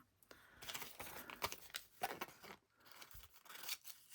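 Paper being cut with scissors for a scrap box journal, a series of close, crisp snips and rustles in irregular bursts with no talking.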